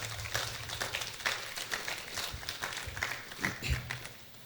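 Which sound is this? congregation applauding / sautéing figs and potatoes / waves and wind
congregation applauding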